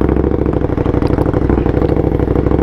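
A KTM Superduke motorcycle engine runs steadily with a deep, pulsing, lumpy rumble and some mechanical clatter, loud and close, with no talking.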